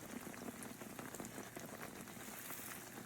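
Sourdough elephant ears fry in bubbling hot oil, a dense, steady crackling sizzle that stays even and close throughout.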